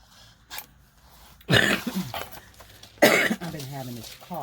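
Two loud, close coughs burst out about one and a half seconds apart over a quiet room, each followed by a short raspy tail, with a faint earlier catch of breath.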